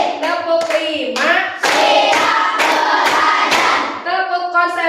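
Students in a classroom peer-teaching activity clap together in a counted focus routine, loud rhythmic rounds of unison hand claps separated by a teacher's sing-song spoken counts.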